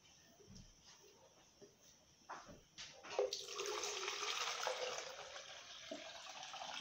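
Coconut water pours from a jug into a cup, starting with a few small knocks and clinks, then a steady splashing stream that keeps going to the end, close by.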